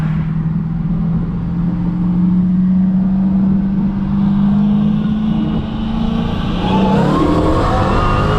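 Dodge SRT Hellcat making about 730 wheel horsepower and a Camaro 2SS accelerating hard in a 60 mph roll race, a loud sustained engine drone heard from inside the car, rising in pitch toward the end.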